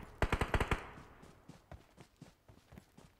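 A rapid burst of about six loud gunshots from a shooting video game, followed by scattered lighter thumps and footstep-like taps at a steady, uneven pace.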